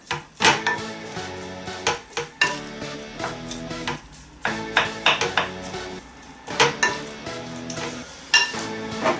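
A spoon mixes burger mince with a free range egg in a bowl, giving repeated wet, squelching strokes and clinks at a steady close rhythm, with no speech.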